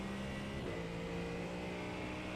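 A racing-game American car's engine drones steadily at a constant pitch, a continuous mid-level hum with a slight pitch shift partway through and no speech.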